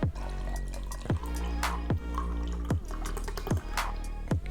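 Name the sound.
pouring soju and beer mixed drink (somek)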